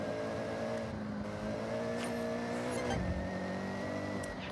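A Mazda Miata in the racing game Forza Horizon, its engine note steady and sustained, with a gear shift dip around midway before climbing again; continuous, close, no talking.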